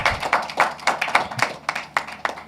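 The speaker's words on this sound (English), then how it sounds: "I think we can spare them a round of applause." A few people at a company annual general meeting clap by hand, giving sparse, distinct claps in an uneven rhythm rather than a full roar, fairly close and with no talk over them.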